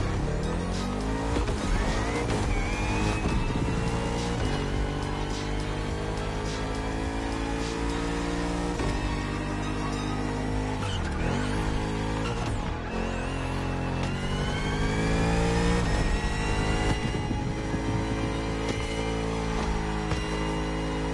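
Bugatti Vision GT engine in The Crew Motorfest, revving hard and loud and close for a long stretch, with rising and falling engine pitch, gear-change dips and bursts of tire squeal.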